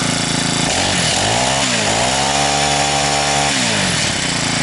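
An eight-year-old two-stroke engine on a PRO-CRAFT T5600 brush cutter, recently cleaned with a serviced carburetor, runs loud and close, its buzzing pitch dipping and rising as the revs shift, then settling into a steady drone.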